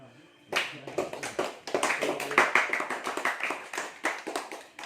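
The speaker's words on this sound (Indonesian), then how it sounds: "Tepuk tangan dulu untuk" Pupils in a classroom during a practice teaching lesson break into brisk, uneven clapping after a short quiet moment, many hands beating close and loud for over four seconds.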